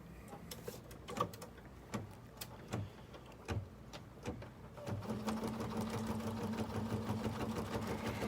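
A BERNINA 770 Plus sewing machine first clicks through a few separate stitches, then runs steadily in a continuous whirring hum, quiet and close, stitching through fabric and stabilizer.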